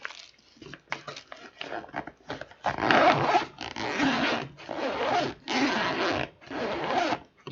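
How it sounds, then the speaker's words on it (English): A zipper is pulled in a series of quick, raspy bursts, some short and some longer, close and fairly loud, with gaps between strokes. "the zipper sound is"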